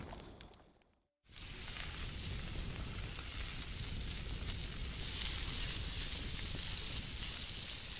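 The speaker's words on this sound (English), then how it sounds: "And you can see the sizzling." Meat sizzles as it cooks in the fantasy video game Dragon's Dogma 2, a steady close frying hiss that swells after a brief quiet start and carries on alone.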